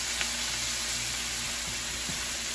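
Beef browns in ghee with garlic in a hot pan, giving a steady, quiet sizzle and crackle throughout, with no talking.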